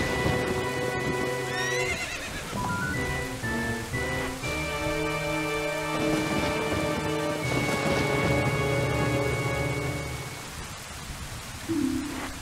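A white horse in Zelda: Ocarina of Time gallops with rhythmic clip-clop hoofbeats and lets out a loud neigh, layered over in-game music, rain and rumbling thunder.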